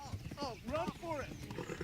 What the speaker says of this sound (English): Oh dang, the horse just got shot. I think my horse is dying.